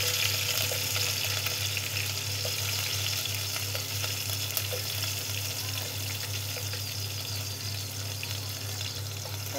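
Green chillies fry with cumin in hot oil in a pan, giving a steady, close, crackling sizzle that continues unbroken throughout.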